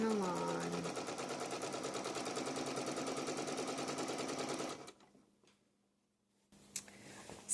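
A sewing machine stitches a quilt in a fast, even mechanical rattle for about five seconds, close and alone, then stops to silence before a brief handling noise at the end.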